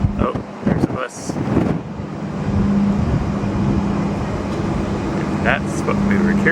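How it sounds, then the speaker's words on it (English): A Disney shuttle bus rumbles nearby with a steady low engine drone and wind noise, following a brief voice at the start. "Oh, there's a bus."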